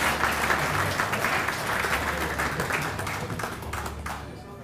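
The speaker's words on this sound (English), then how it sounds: "if we could just do one quick round of applause" A steady round of applause from an awards ceremony crowd, dense clapping sustained throughout at a fairly even level.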